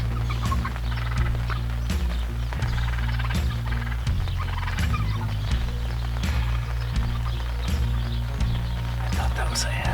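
Wild turkey gobbling repeatedly in the field, loud and close, with several rolling gobble bursts over a steady low droning background and faint clucks.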